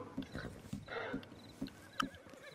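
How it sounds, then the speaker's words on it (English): A horse in the video game Red Dead Redemption 2 whinnies, with a steady, evenly spaced clip-clop of hooves running beneath it over a few seconds. "My horse just went out of control."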